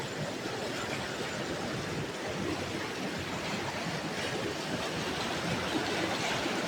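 Rainwater rushes through a channel beside a house after a week of heavy rain, a steady broadband roar of flowing water that holds constant throughout, with no voices.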